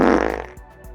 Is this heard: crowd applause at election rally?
no